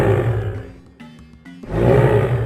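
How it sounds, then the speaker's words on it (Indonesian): A tiger's roar rings out in a forest, a loud, deep, rumbling call that swells, dips briefly, then surges again with heavy resonance. "Mereka masuk ke dalam hutan, dipandu oleh suara auman yang menggema."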